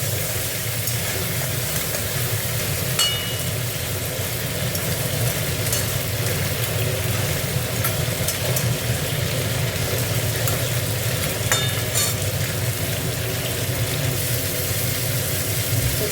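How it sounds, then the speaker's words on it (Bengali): Crabs frying in oil in a home kitchen, a continuous dense sizzle with steady crackle and a low rumbling hum underneath, unbroken and fairly loud for the whole stretch. "কাঁকড়াগুলো একটু ভেজে নিই"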